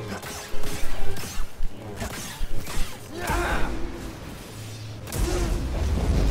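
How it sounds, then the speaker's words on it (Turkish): Bombs exploding in Star Wars Jedi: Fallen Order: game-style booms and crashes burst out amid whooshes and rumbling, with a person gasping and reacting loudly over the chaotic action. "Bombalar patladı."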